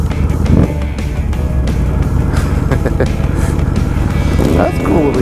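A Yamaha motorcycle engine runs close by with a steady loud rumble, heard under people talking over it.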